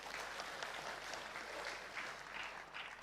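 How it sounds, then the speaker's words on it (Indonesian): Audience applause for a provincial governor as he takes his seat on stage at a public forum, continuous crowd clapping at moderate level throughout with no pause. "Tepuk tangan sekali lagi untuk Pak Andra Soni."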